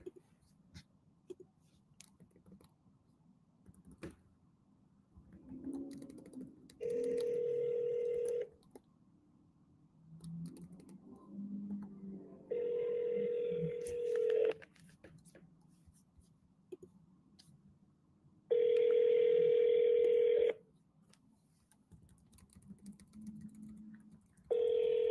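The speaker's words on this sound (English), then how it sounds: "I'm gonna call this lady one more time. I'm gonna triple dial her, right?" Telephone call being placed, with muffled low chatter and clicks between three loud, steady ringback tones, each lasting a second or two and recurring at intervals, the last the loudest.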